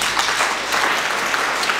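Church congregation clapping for Jesus during an Easter sermon, a dense burst of many hands applauding together, loud and continuous for a couple of seconds with no talking.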